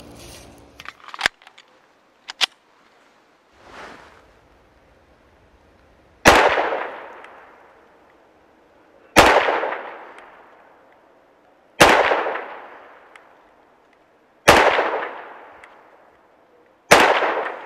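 Five sharp gunshots from an M&P 2.0 10mm pistol fired at a target 15 yards away crack out at even intervals of a few seconds. Each blast is loud and close and rings out into a decaying echo, with a few small clicks before the first shot.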